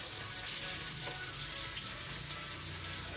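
Sardines fry in a pan over a wood fire, giving a loud, steady, close crackling sizzle that holds without break and with no voices.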